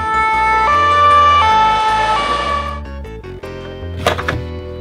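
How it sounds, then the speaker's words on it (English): A loud ambulance siren wails with alternating pitches over a pulsing music beat, followed by a few thumps and a brief noisy burst. "White ambulance."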